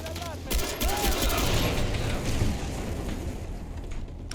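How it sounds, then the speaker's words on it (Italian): Dense explosions and rapid gunfire from a firefight in Far Cry 3, with a continuous loud roar of blasts and shots crowding the whole clip. "Volete le esplosioni? E le esplosioni avrete"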